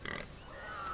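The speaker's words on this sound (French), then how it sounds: "Il y a des porcs, j'aime bien les porcs." A pig in Far Cry 3 gives a quick burst of close grunting, followed by a faint, steady game-world background with a soft tonal hum.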